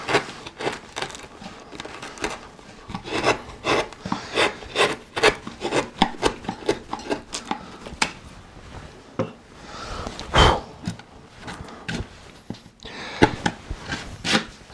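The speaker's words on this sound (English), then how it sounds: "with a chisel straight down, like so, on the line like that." Chisel and gouge work on a carved wooden coastal relief, a steady series of close scraping, rasping cuts in short strokes with brief pauses, fairly loud and alone with no talk.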